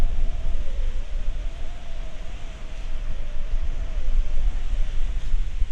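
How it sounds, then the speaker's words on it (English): Wind gusting across a cold lakeside beach, a constant loud rushing roar buffeting the microphone, with a faint steady hum running underneath throughout. "It's a little too cold and windy to swim today and enjoy the beach"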